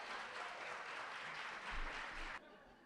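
Applause from the audience at a philanthropists of the year awards ceremony, a broad sustained clatter of clapping that cuts off abruptly near the end and leaves a quiet room.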